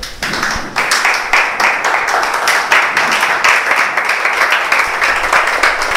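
A church congregation applauds together, a dense, steady wash of many hands clapping that holds at an even level for several seconds, with no voices standing out.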